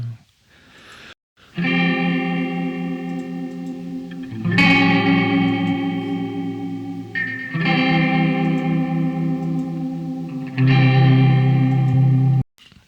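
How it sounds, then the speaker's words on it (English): Distorted electric guitar tracks from a remix, four long sustained power chords with heavy low end and chorus-like shimmer, loud and close with no talking. "I like the low end of these guitars in general, but we can't have it blowing out like that."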